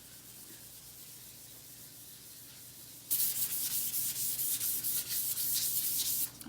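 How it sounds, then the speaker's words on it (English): Sanding a stained wood stencil piece by hand, starting as a quiet scuff and then turning into a loud, steady, hissing abrasive rub that runs without a break for the last few seconds. "I need to sand it again"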